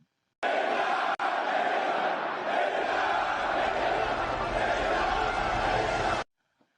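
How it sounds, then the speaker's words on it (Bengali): A dense crowd chants slogans loudly and steadily in unison as Iran's supreme leader Ayatollah Ali Khamenei appears in public, the roar filling the whole stretch without pause. "আকাশ কাঁপানো স্লোগানে তিনি এলেন সবার সামনে"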